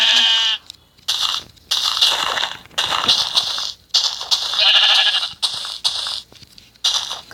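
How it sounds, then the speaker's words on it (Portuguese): Sheep in a Brazilian Minecraft-style survival game bleat over and over, loud and close, in a rapid run of short calls separated by brief gaps. "Opa, achei uma ovelha."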